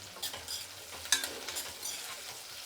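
Curry leaves hit hot tempering oil for an okra chutney, giving a bright hissing sizzle with a sharp burst partway through and some stirring, with no talking.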